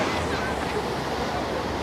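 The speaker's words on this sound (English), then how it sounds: "And the waves are coming in really nice" Ocean surf rolling in at Waikiki beach, Hawaii, a steady broadband wash of breaking waves with some wind noise on the microphone, continuous and moderately loud.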